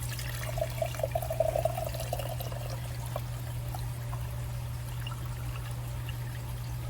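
Homemade chicken bone broth pours steadily through a strainer into a jar, a continuous soft splashing trickle over a low electrical hum.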